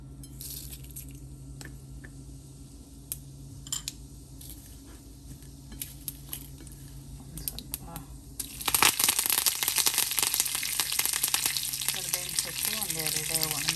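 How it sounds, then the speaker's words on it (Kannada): Two to three spoons of oil for a tempering with dried chillies, for a ridge gourd and green gram curry, burst into a loud, crackling sizzle about two-thirds through after quieter kitchen clinks and rustles. "ಇದಕ್ಕೀಗ ಒಂದು ಒಳ್ಳೆ ಒಗ್ಗರಣೆ ಹಾಕೋಣ."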